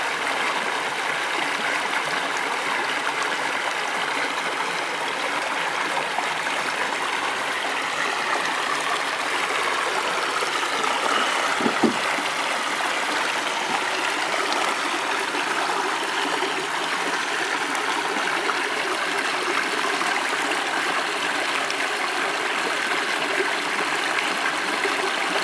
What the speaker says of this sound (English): Hear the water, cleansing, churning,